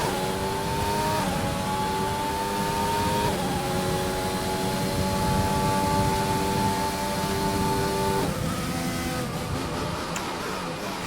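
Formula 1 cars race in the F1 2020 video game, an engine whining at high pitch with rising revs and sudden gear-shift drops in pitch, loud and steady throughout without talk.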